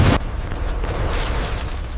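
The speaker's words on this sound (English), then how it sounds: "The Fateh 110 has launched." A Fateh 110 ballistic missile launches with a sharp, loud burst, then settles into a steady rumbling roar that carries on without any voices.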